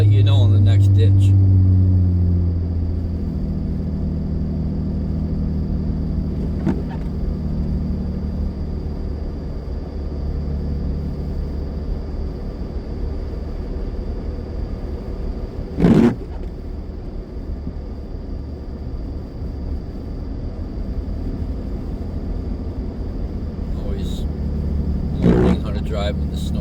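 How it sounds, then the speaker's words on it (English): Steady low rumble of a car driving through heavy snow on a winter road, continuous engine and road noise throughout, with a brief sharp knock partway through. "Driving in the snow again is fun, you know."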